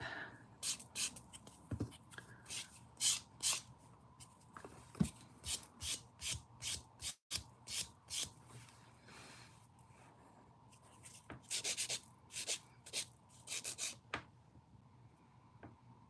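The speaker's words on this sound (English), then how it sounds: "Now I'm using my buffer to get in there, refine the cuticle and the taper at the tip." A nail buffer rubs over a dip-powder nail, refining the cuticle area and the taper at the tip, making a series of short, close, dry scratchy strokes in rhythmic bursts with a brief pause midway.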